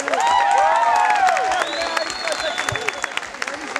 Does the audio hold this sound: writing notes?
no